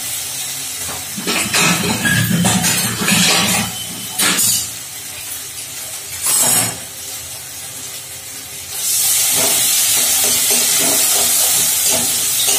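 Chhana, a cottage cheese, stir-fried in hot oil in a home kitchen: bursts of loud sizzling and hissing with stirring, then a steady sustained sizzle near the end, no talking.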